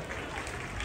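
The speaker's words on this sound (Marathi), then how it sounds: "त्या ताईसाठी जोरात टाळ्या वाजव" Brief applause from the crowd at a local dance show held by a neighbourhood friends' club, a faint, dense wash of clapping lasting under a second.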